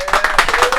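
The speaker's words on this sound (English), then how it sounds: "All right, we're still clapping." A small group claps loudly and quickly at close range inside a bus, a brief burst of dense hand claps.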